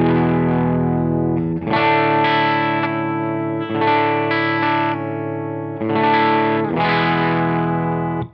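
A Les Paul electric guitar played through a 1965 Fender Bassman amp plays chords on a clean but slightly gritty, sparkly tone, with several strummed changes ringing out loudly and no voices.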